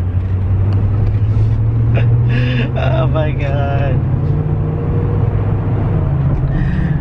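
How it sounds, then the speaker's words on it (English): A car engine running rough like a lawnmower while driving, its low drone rising in pitch under a person's startled exclamation and other voices. "It sounds like a fucking lawnmower."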